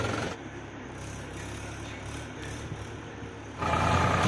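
A Sonalika 745 tractor engine idles outdoors near a river, a steady low mechanical rumble with a continuous broadband hiss that swells louder toward the end.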